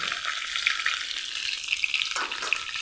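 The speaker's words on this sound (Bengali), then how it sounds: "পটলগুলি এভাবে ভেজে নিলাম" Pointed gourd (potol) pieces fry in hot oil with a steady, close crackling sizzle, bright and continuous for a few seconds, with a slight stir or shift of the pan near the end.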